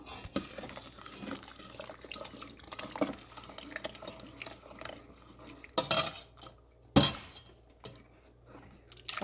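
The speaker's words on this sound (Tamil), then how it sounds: "அடுத்ததாக நாங்கள் இந்த மாவை விட்டு கிண்டுவோம்" A spoon stirs flour batter in a pot for Adi kool, giving soft scraping with a few sharp metallic clinks against the pot near the end.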